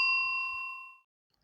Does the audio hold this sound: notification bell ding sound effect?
yes